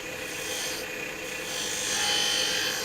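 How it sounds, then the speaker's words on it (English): Small spindle gouge cutting maple burl on a wood lathe while shaping a cocktail muddler: a continuous rasping, scraping hiss of the tool on the spinning wood, close and steady, swelling slightly toward the end. "Then I'm going to switch to a smaller spindle gouge so I can get right up against that."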